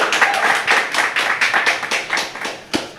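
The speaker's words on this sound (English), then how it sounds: "Round of applause for our guests" A small group of people claps for guests at an evening speaking event, loud, close and distinctly rhythmic, with individual hand claps clearly separated over a few seconds and no talking.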